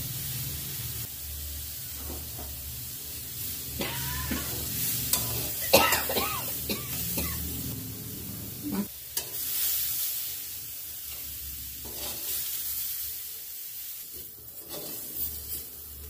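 Vegetables frying in a pan with salt and turmeric for masoor dal khichuri, a close sizzle with repeated scraping and stirring strokes that rise and fade, no speech.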